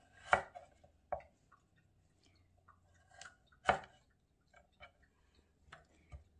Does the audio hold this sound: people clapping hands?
no